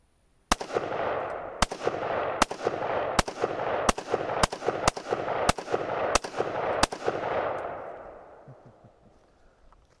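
A semi-automatic AR-15 rifle fires nine sharp, loud shots in a steady rhythm, each crack trailing into a long rolling echo that fades slowly after the last round.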